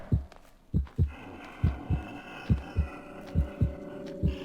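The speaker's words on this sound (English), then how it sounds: "you'll get that prompt with the heartbeat sound if you're successful" A heartbeat cue from the horror video game The Evil Within: deep, muffled double thumps repeating at a steady, slightly quickening pace over a low ambient hum, with no talking.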